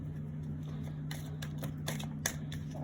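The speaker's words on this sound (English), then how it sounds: "I'm going to get a deck big enough to shuffle from this box of cards that I have" A deck of tarot-style cards is shuffled from a box, giving a run of quick papery riffles and flicks that start about a second in, close by over a steady low hum, with no talking.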